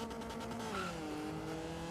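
Car driving in the Forza racing game, an engine droning steadily with a tire squeal that rises and falls in pitch, moderately quiet and continuous, with no talking.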